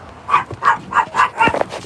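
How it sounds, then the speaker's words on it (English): A dog barks five times in a quick, even rhythm, close and fairly loud, the last bark ending in a short whine. "Stop barking at me."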